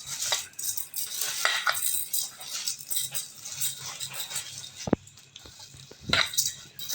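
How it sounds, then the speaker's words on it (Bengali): Rice being mixed by hand with a sprinkle of water and salt, giving soft gritty rustles and scrapes with a few sharp grain clicks and taps against the bowl, close and quiet. "এই যে অল্প পরিমাণে লবণ দিয়ে ভালো করে মেখে নিচ্ছি চালটা।"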